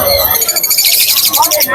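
A yellow pair of caged lovebirds calls with a quick burst of shrill, rapid chirps close by, loud and bright over a brief span.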